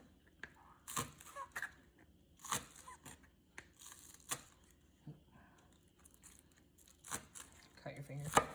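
A knife cuts food for a beer and cream cheese pretzel dip: scattered crunchy chops and slicing sounds, close and soft, with speech around them.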